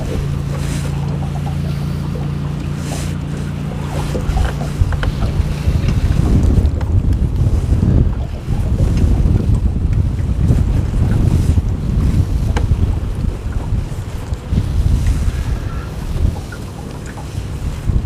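Wind buffets a boat out on a river, a steady roar of gusts and rushing air close to the microphone, with a low motor hum at the start, no voices.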